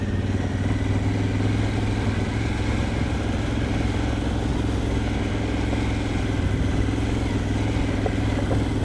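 A motorcycle engine runs steadily close by on an elevated coastal road, a constant low throbbing rumble with no revving or pauses and no talk.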